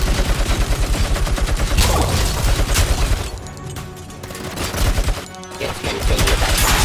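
Dense bursts of gunfire and heavy fusillades from Robocop: Rogue City, loud and sustained, with a short lull midway before the rapid shots and booms resume.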